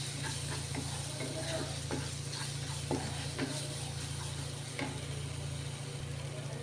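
Spoon stirring turmeric and ginger-garlic paste in a frying pan for bitter gourd curry, with soft scraping strokes over a steady low sizzle and a constant background hum.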